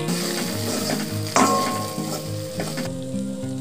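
Turmeric, ground fennel and cumin spice fry steadily in hot oil, a continuous close sizzle with scraping stirs and a sharp spatter burst partway through.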